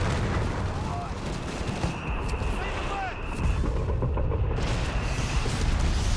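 Rocket salvos and gunfire crack and boom through a Company of Heroes 3 battle, dense overlapping blasts and shots under a commentator's voice.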